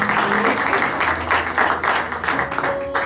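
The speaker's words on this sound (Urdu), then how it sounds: "القدس کے لیے بھی زوردار تالیاں ہیں" A church congregation applauds at a worship service, dense, close clapping that runs steadily throughout with a few voices mixed in.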